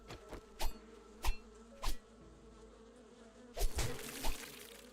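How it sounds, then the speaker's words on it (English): Bees buzz in the 7 Days to Die survival video game on PS5, a low steady drone broken by several sharp, loud hits and bursts spaced a second or so apart. "I don't know how bees can bleed out, but they can bleed out."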